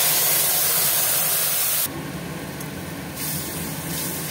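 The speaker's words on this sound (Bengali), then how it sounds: "কড়াটা গরম করে নিয়েছি, দিয়ে দেবো সর্ষের তেল অল্প, ফোড়নে দেবো কালো জিরে, দেবো বেটে রাখা চাটনিটা।" Ground coriander-leaf chutney hits hot mustard oil tempered with nigella seeds in a pan, giving a loud close hiss that drops to a steadier, softer sizzle after a couple of seconds.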